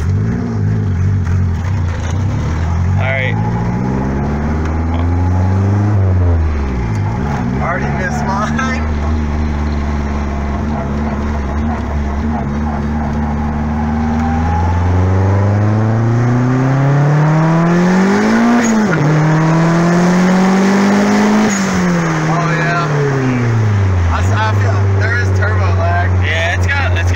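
A turbocharged Honda Integra accelerates hard, its loud engine climbing in pitch through several gears with clear drops at each shift, heard from inside the car as a steady, close roar.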